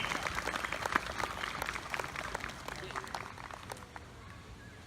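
A concert audience at a US Army show in Cocoa, Florida claps in brisk, scattered applause that thins out and fades over a few seconds, heard at moderate distance.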